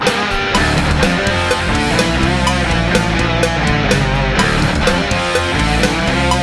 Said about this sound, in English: Let's kind of follow that on bass, but put a harmony under it, so we'll play it a fourth lower than the guitar.